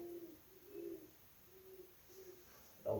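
Owls hooting outside a house, a series of soft, low hoots repeating at a steady rhythm, fairly distant and faint, with a brief louder knock near the end.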